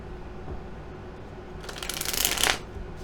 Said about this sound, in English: as I shuffle the tarot cards